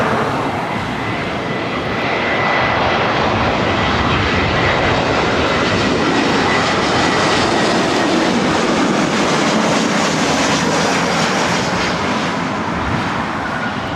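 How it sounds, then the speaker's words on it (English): A Spirit Airlines Airbus A320neo lands at LAX, its engines giving a steady, loud, broadband roar that holds throughout with a slight swell in the middle, heard from nearby without any talk. "Show you the Spirit landing here. Spirit Airlines 595 coming in from Oakland on an A320 Neo."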